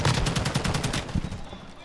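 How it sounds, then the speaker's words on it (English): Rapid bursts of gunfire from an esports shooter match in tournament finals, a fast run of sharp shots for about a second before tapering into quieter scattered reports. "the first shots have been fired"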